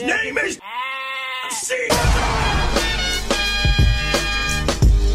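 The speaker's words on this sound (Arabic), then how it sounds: "تعالي شوفي خروفهم كيف معضل" A sheep, noted for being unusually muscular, bleats close by in a busy French seaside street during a cruise stop, with a long wavering cry followed by street noise and women chatting.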